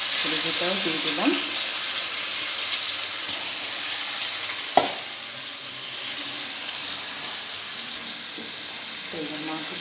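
Marinated meat cooking with gravy in a pan for a homestyle biryani, a steady low sizzle and bubbling with a few stirring clatters and one sharp knock midway.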